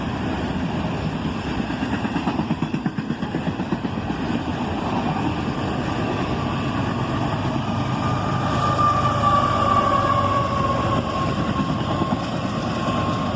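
A CSX freight train with distributed-power locomotives rolls past in the evening, a steady rumbling of wagons with clanking wheel beats and an engine drone, a squealing tone rising later as the train continues by.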